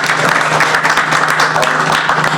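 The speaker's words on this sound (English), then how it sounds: "also some applause." Audience applause at a senior housing and healthcare investment session at MIPIM 2022, loud, dense and steady clapping from a crowd filling the whole stretch.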